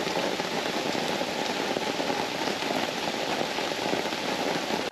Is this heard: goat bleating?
no